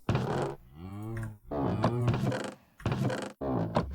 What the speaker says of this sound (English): They've also added some new chest sounds.